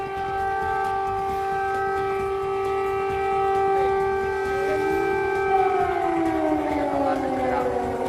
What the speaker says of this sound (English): That's an air raid siren. Several of them going off here in the centre of the Ukrainian capital.